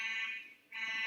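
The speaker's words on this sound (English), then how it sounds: "What's the fire alarm?" A fire alarm blares in a classroom, a loud continuous electronic tone that cuts out briefly and resumes.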